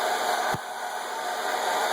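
A 1700-watt hair dryer blows with a steady, even roar of rushing air, close and constant for two seconds, with a brief dip partway through.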